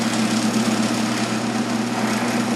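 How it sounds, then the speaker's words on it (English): A milling machine touching off on the side of a pipe fitting while making a propane forge burner, a steady, loud motor drone with a continuous hum and no talk. "Turn my mill on, then I'll come down and touch off on the side of this fitting"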